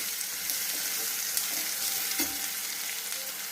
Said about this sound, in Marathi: हलवून भाजून घेऊया